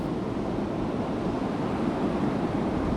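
Steady roaring wash of stormy ocean waves, continuous and broad like heavy surf and wind, with no talk.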